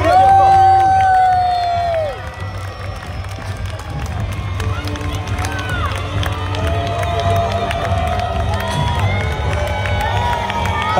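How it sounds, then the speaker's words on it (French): Crowd at a medieval knights' jousting tournament cheering and shouting for a winning knight, children's shrill cries and scattered clapping in an open outdoor setting, loud at first then settling into a lively, continuous din with voices talking. "On peut l'applaudir bien fort"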